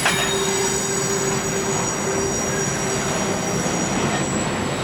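An FEC freight train rolling through Fort Lauderdale, its wheels squealing in a sustained high metallic whine over a continuous rumble of cars passing close by.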